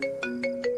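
A phone ringtone chirps out a quick, repeating electronic tone pattern, close and clear.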